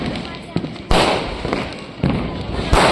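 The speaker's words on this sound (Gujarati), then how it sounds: "બધા ફટાકડા ફોડો" Diwali firecrackers burst outdoors in a quick series of loud, sharp bangs and crackles, three main blasts with fizzing between them, while people shout and talk excitedly nearby.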